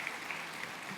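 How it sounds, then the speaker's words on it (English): Applause from an audience at a 2021 Tyler State of the City event, a steady wash of many hands clapping, somewhat distant and fairly quiet. "It's the best applause you'll ever get, I promise."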